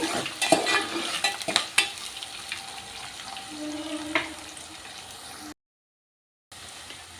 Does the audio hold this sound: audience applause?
no